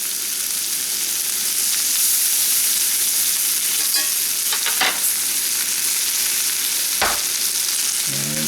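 Peppers fry in butter in a pan, a loud steady sizzle and hiss throughout, broken by a few soft clicks and a sharp knock near the end.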